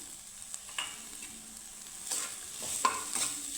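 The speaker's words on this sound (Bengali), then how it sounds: "তো পেঁয়াজ মশলার সাথে আমি আলুটাকে সুন্দর করে ভেজে নিচ্ছি" Mashed potatoes fry with onion and spices in a pan. A quiet, steady sizzle sits under intermittent spoon stirs and scrapes that come in soft, irregular bursts, without speech.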